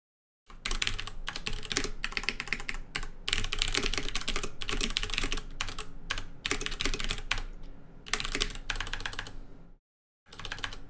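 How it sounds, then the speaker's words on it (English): Fast typing on a computer keyboard, dense bursts of close key clicks in a continuous run with short pauses, alone without speech. "I'm going to go through and type down what I was thinking about then in this paragraph here"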